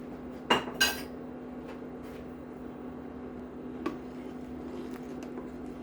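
Potatoes and garlic stirred in a soup pot, two sharp metallic clinks of a utensil against the pot early on and a lighter tap later, over a steady low hum from the stove area.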